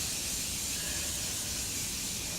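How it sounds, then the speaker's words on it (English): Makeup setting spray misted onto a face, a soft continuous hiss lasting the whole moment, close and fairly quiet with no talk. "I'm going to put some setting spray on"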